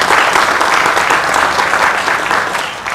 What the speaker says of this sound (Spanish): también los saludamos con un aplauso cariñoso